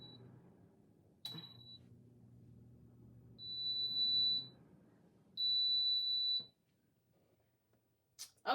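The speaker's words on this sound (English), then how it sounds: "the oven has beeped, indicating that the tumbler is ready" A PYD Life mini sublimation oven beeps when its cycle finishes, giving a few sharp electronic tones in short bursts with a longer steady beep, heard alone against a quiet room with faint handling noises.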